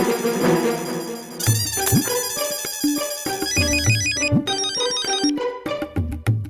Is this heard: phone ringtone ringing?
yes